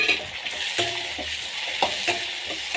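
Tomato and brinjal frying together in a pan for vangi bath, a dense, steady sizzle close by with occasional stirring scrapes and light taps, no voices.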